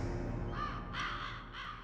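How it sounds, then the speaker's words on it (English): Crows in the Metal Gear Solid video game give three quick harsh caws that sound distant and fairly faint, each rising out of a low steady game drone. "Those birds are just really desperate for a source of heat."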